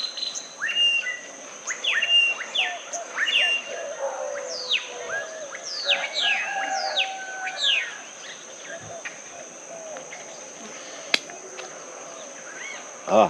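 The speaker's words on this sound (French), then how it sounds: "Tous les bruits des oiseaux." Tropical birds calling in the Belize jungle, a dense run of chirps and whistled notes near and far over a steady insect drone, with a sharp click near the end.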